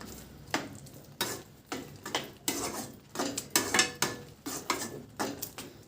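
Carrot halwa and sugar are stirred in a pan, with a spoon scraping and clinking against the metal in a quick, regular rhythm of strokes close by.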